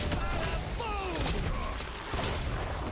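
Explosions in the video game Smite: dense layered blasts and whooshing effects with rising and falling tones, booming close and loud in a busy, continuous game mix, with voices faint underneath.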